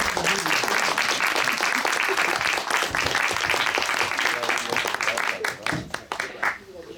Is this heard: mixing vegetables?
no